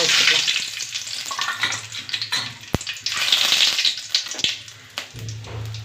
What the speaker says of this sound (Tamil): இப்போ வந்து நம்ம வந்து தாளிச்சிக்கலாம்.